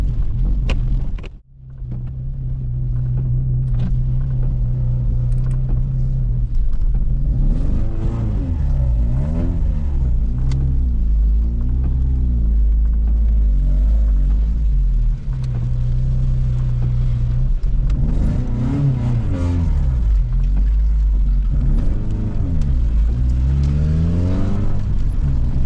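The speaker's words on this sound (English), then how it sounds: "This thing's running on 3 cylinders" Vauxhall Cavalier with a C20XE engine misfiring on three cylinders, a loud rough uneven drone with rising and falling revs heard from inside the car on a rough road, continuous and close.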